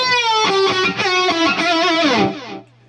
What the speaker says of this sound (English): this is my lead tone, basically is a distortion with a EQ and a delay